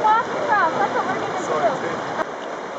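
Shallow water of Stony Creek in Denali National Park, Alaska, rushes constantly over stones with a broad, close hiss, and a voice briefly sounds over the flow.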